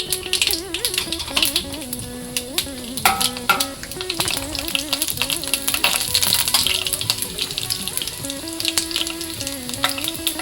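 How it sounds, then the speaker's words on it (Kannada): Mustard and cumin seeds crackle and sizzle in hot oil, with dense rapid popping and spitting across the whole stretch alongside some pan and utensil clatter, close and fairly loud, no voices. "ಎಣ್ಣೆ ಕಾದಿದೆ. ಸ್ವಲ್ಪ ಸಾಸಿವೆ, ಸ್ವಲ್ಪ ಜೀರಿಗೆ ಹಾಕ್ತಾ ಇದ್ದೀನಿ."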